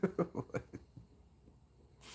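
A person gives a short burst of several close coughs in quick succession, then a brief quiet breath.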